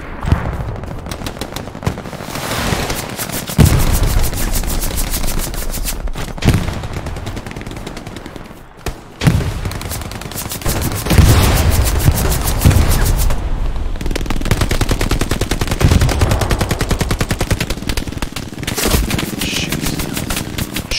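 Machine gun fire in a World War II style video game battle, with long rapid bursts of automatic gunfire alongside scattered single shots, loud and close, broken by a few brief pauses over about twenty seconds.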